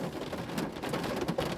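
Steady rain falls and patters on surfaces nearby, a dense, even hiss with scattered drops standing out, heard without any voices.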